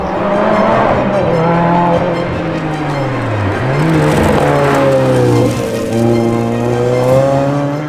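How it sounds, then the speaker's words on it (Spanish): A Lotus Exige Scura sports car accelerating hard, its engine note climbing through gears with a brief dip at a shift, loud and close throughout. "La aceleración de este coche realmente es bastante impresionante"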